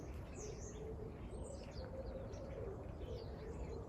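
Birds call and chirp faintly in a quiet Scottish garden on a late August morning, scattered high tweets over a steady low background hum.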